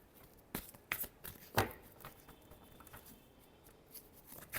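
Tarot cards being shuffled by hand in short papery bursts of riffling and patter, close and fairly quiet, with several distinct flurries and no talking.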